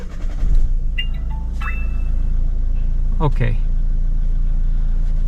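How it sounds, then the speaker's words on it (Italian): A car engine starts with a low rumble and settles into a steady idle close by, with some beeps and brief talk over it. "Quando accendo l'auto"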